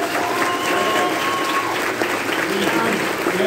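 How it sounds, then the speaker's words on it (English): Audience clapping steadily at a horror convention panel for the Night of the Living Dead 30th anniversary, a loud, dense, continuous burst filling the room with a few voices mixed in. "Give a round of applause for Chris"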